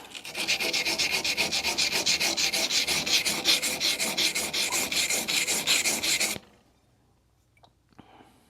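A newly forged knife's bevel is rubbed back and forth on a King 120 grit sharpening stone, producing rapid, evenly rhythmic rasping strokes up close that stop suddenly, followed by near silence.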